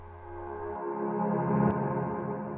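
A piano passed through a huge reverb and played in reverse swells steadily upward as a sustained, washy tonal bloom, growing louder toward the middle and holding without any talk.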